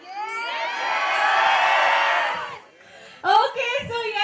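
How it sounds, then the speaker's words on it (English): A large mall crowd screams and cheers in a sustained loud roar for over two seconds, dies down briefly, then bursts into shouting again. "I want you people to scream as loudly as you can"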